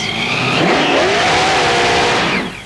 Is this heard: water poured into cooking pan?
no